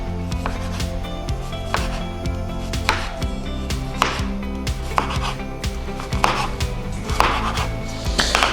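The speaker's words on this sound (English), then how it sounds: "Now, begin by cutting like lengthwise." A knife slices lengthwise through half an onion on a cutting board, with regular crisp chopping strokes about once a second over a continuous low musical hum.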